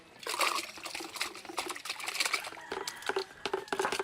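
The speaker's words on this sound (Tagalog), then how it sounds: "kaya may bula sa tubig, yan ang pinakadumi na paghugas nitong tahong na dinaing." Dried mussels are washed by hand in foamy, salty water, giving close, irregular splashing, sloshing and trickling with small drips throughout and no voices.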